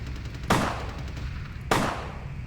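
Two loud, sharp gunshots sound about a second apart in a video game, each one a sudden crack with a brief decaying tail over a low steady background.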